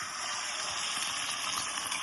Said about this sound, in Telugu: ఈ ఎగ్స్ ఇందులో వేసేసుకుందాం.